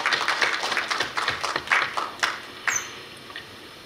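An audience at a Korea University KU-KIST graduate school entrance ceremony gives a short round of clapping to welcome a student, a dense patter of hand claps that tapers off and fades within a few seconds, with no voices over it.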